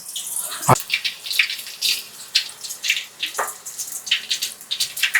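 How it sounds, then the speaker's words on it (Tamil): Shaped onion vadai slip into hot oil for frying, setting off a crackling, bubbling sizzle with sharp pops and spits close by, with no talk over it. "அதை அப்படியே எடுத்து எண்ணெயில் போடுங்க"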